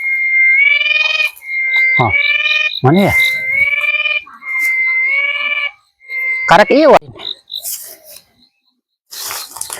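Loud buzzing calls from a large insect, likely a cicada, in a rubber plantation: rising, wavering electronic-like drones repeated in bursts, close and dominant, with a person speaking briefly between them.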